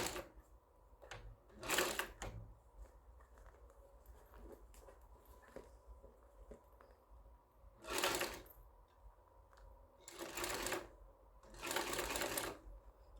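A sewing machine stitches through six layers of vinyl with interfacing in several short, quiet whirring bursts, with soft handling sounds in the pauses between them.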